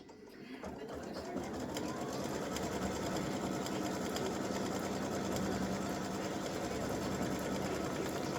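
An embroidery sewing machine stitches a tack-down line on fabric with a fast, continuous mechanical chatter and hum, loud and close, starting up in the first second and running steadily to the end.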